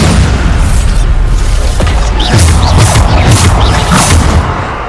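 Explosive spell blasts in the video game Hogwarts Legacy, a run of loud, booming detonations with deep low-end thuds and crackling bursts, several hits landing in quick succession.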